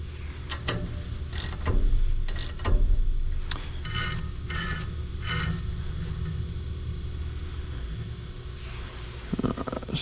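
A wrench tightens bolts on a sawmill band wheel, giving a series of close, scraping mechanical clicks and ratcheting bursts over a low rumble.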